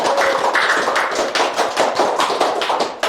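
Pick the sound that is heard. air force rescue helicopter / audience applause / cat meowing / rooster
audience applause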